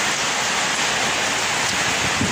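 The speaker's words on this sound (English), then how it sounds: "I'm being whipped in the face by the wind and the rain" A summer storm in Bangkok: wind and heavy rain roar in a dense, steady wash of noise, loud and close, with no voices over it.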